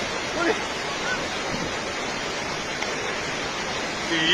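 Rushing flash floodwater during a sudden landslide and flood in Arunachal Pradesh, a loud, steady broadband roar of churning water that fills the whole stretch without a break.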